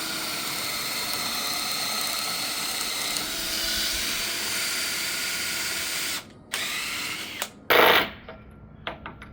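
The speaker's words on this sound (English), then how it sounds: "Always go with the spiral bit if you can versus paddle bit" A power drill with a spiral bit bores through porch decking timber, whining loudly and steadily for several seconds, then stopping and restarting in short bursts before falling quiet.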